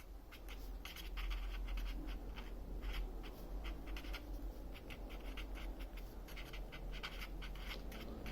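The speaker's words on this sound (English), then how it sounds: "I'm just going to write that at the bottom." Pen writing on paper while working a multi-step trigonometry problem, faint close scratching strokes in short rhythmic bursts over quiet room tone, no speech.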